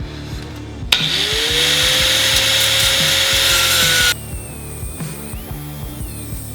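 A power saw blade cuts steadily for about three seconds during a hidden winch install on a Ford Bronco, loud and close, with a rising whine, over a rhythmic background engine-like thrum.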